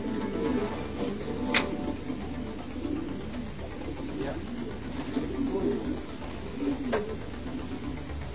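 Racing pigeons cooing softly inside their loft while awaiting the return of birds flown from Poitiers, low repeated coos with a few sharper calls and clicks, fairly faint, with a person speaking over them.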